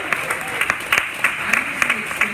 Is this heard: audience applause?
yes